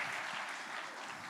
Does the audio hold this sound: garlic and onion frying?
no